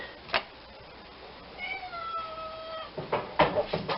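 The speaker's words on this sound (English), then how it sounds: "that sound you hear is the cat being annoyed" A cat lets out a drawn-out, annoyed meow close by, surrounded by a few knocks and kitchen clatter.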